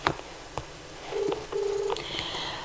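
A telephone call connecting on a phone line: a few sharp clicks, then two short steady tones and a higher electronic tone, heard alone with no talk.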